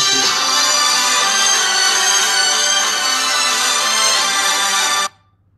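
A phone rings loudly and steadily with an incoming call, a continuous bright ringtone lasting about five seconds before cutting off abruptly into near silence.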